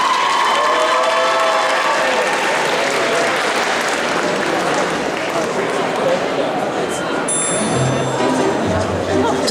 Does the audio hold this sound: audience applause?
yes